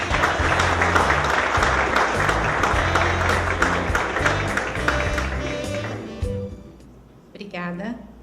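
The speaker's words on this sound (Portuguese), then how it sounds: "peço que recebam com a calorosa salva de palmas a nossa palestrante" A lecture audience gives a warm round of applause to welcome a speaker to a talk on population health management, dense clapping that gradually fades and thins out near the end.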